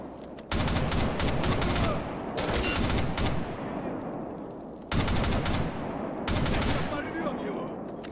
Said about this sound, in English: Just having to shoot around that rebar.